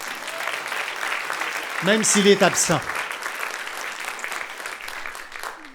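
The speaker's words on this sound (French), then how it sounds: "Là, si vous voulez applaudir, c'est le moment." A gala audience applauds a retired arts-foundation founder, steady moderate clapping filling the room while a speaker talks briefly over it.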